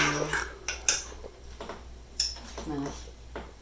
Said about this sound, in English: I'm just spooning it in here to get it spread evenly